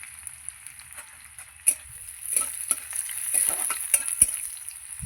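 Jute leaves (pat shak) frying in a pan, a steady close sizzle and crackle with occasional stirring clatter of a utensil against the metal.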